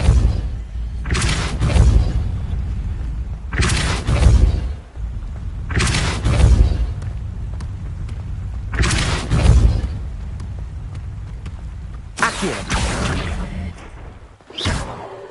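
In Hogwarts Legacy, the Depulso spell fires repeatedly, giving about five loud, booming whooshes with heavy low rumble, each lasting around a second, spaced a couple of seconds apart.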